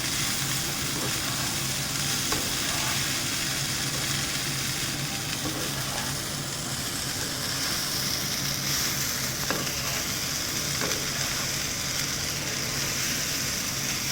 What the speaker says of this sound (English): use the spoon very lightly to stir it